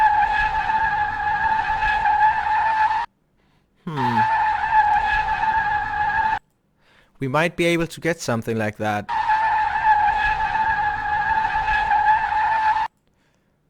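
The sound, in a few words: car tire skid sound from video game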